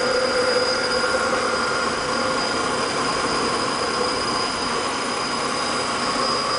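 A waste vegetable oil burner roars in a steady, unbroken whoosh, with an air compressor running alongside it, with no voices heard.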